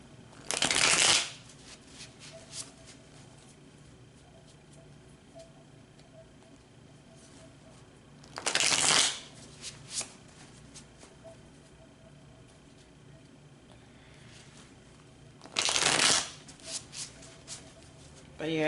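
Tarot cards shuffled in three separate bursts of riffling, each lasting about a second, spaced several seconds apart with quiet room tone between them.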